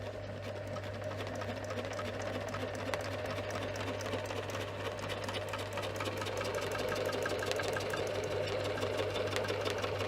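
A sewing machine quilts fabric squares guided by a ruler, running in a continuous, even, close drone with a fast rhythmic stitching texture throughout.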